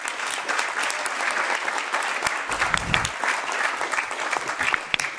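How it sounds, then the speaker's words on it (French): Audience at a French-speaking conference on the Covid period breaks into sustained applause, a dense steady wash of clapping from a sizable crowd throughout. "Vous pouvez applaudir."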